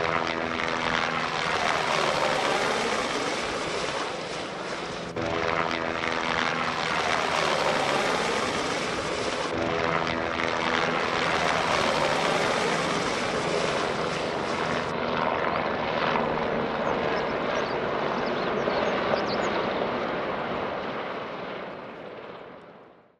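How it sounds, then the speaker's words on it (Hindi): A helicopter flies overhead along the Amarnath pilgrimage route from Baltal, a loud continuous rotor and engine roar that stays close and strong, with rising and falling sweeps as it passes, then tapers off at the end. "आपको रास्ते में कई हेलीकॉप्टर दिखाई देंगे।"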